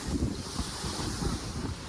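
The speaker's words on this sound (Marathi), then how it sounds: "असं लाटा येत आहेत" Sea waves break and wash along Daman beach in a steady, rolling roar, with low gusts of wind buffeting the microphone throughout.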